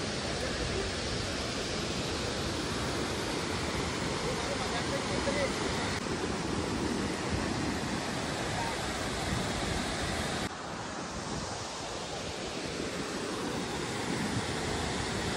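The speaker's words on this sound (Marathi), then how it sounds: "कोकणात असे धबधबे खूप आहेत पण उक्षीच्या ह्या पॅचला तर भरपूरच आहेत" The Ukshi waterfall in the Konkan, beside a railway bridge with a river below, makes a steady loud broadband roar of rushing water that fills the whole stretch without a break.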